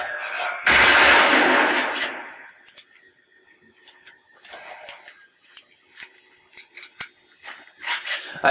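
Shotgun fire in the zombie game Dead Island: one loud, close blast with a long ringing decay, followed by quieter clinks and small impacts, ending in a few sharper hits.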